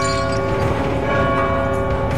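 A bell rings in the video game God of War 2, its sustained tonal hum droning steadily and loudly throughout among the game's ambient sound.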